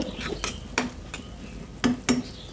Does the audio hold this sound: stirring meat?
yes